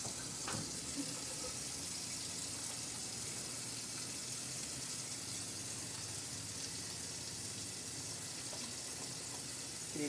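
A kitchen tap runs steadily for hand washing, a constant, fairly loud hiss and splash of water that carries on alone without a break.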